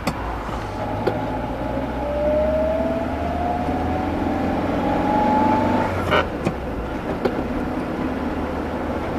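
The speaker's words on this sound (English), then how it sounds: "the cars go very quick round here" Cars speeding over a hill on a road across the Yorkshire Moors, heard from inside a parked vehicle; a steady engine rumble swells as one passes, with a rising whine, over a constant low drone.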